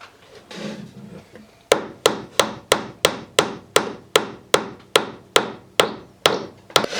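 A hammer drives a nail into wood while building a leprechaun trap, about fourteen sharp, evenly spaced whacks in a steady rhythm, loud and close, after a brief soft rubbing sound.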